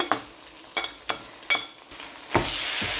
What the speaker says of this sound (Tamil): நான் இப்போ இதில் சிக்கன் கறியை சேர்க்குறேன்.